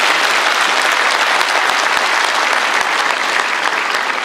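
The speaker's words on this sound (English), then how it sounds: "Can we clap for the president?" A large crowd at Daniel Moi's burial service in Kabarak claps for the president, with loud, sustained, dense applause and no letup from start to finish.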